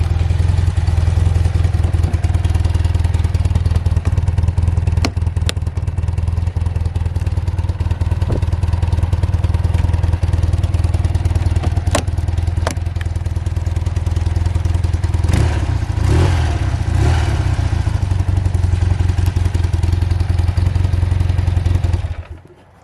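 A 1989 BMW R100 GS Paris-Dakar motorcycle engine runs after a cold start without choke, its loud, close, steady low idle thrumming with occasional clattering knocks before cutting out at the end.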